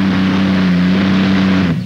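A tractor-pulling machine powered by a single Allison aircraft engine roars loud and steady at a European tractor pulling event in Bernay, France, holding a deep droning pitch before cutting off sharply near the end.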